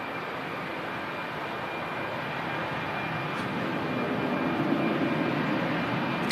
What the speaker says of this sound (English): this EasyJet on its way to Venice, A319 operating today